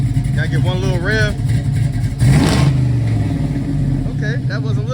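A car engine revs through its exhaust in one short, loud burst partway through, rising and settling back to idle, while people talk nearby before and after.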